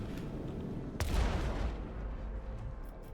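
Starship macro cannons fire in the Rogue Trader video game, a heavy booming blast about a second in that rolls into a long low rumble, with softer distant thuds trailing off.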